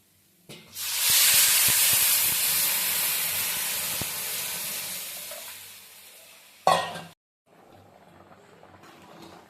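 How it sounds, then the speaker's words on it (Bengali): Water poured into a hot pan of fried mung dal sets off a loud, sustained hiss and steam that slowly fades over several seconds, ending with a brief sharper burst before a quieter bubbling simmer. "এবার আমরা জল দিয়ে দেবো ডালটা সেদ্ধ হওয়ার জন্য।"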